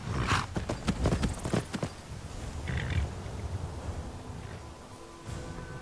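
Horse hooves clip-clop in Skyrim as riders set off, a burst of close, sharp hoof strikes in quick succession followed by quieter, scattered steps over a low background.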